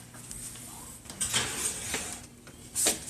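A chicken casserole dish is slid into a 350-degree oven, with soft clattering of the dish and metal rack and a few sharper clinks, close and moderately loud, no talk.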